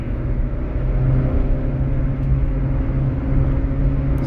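A Hyundai i20 diesel pulls steadily past 100 in third gear, a smooth, constant engine drone and road rumble heard from inside the cabin, fairly subdued with no talk.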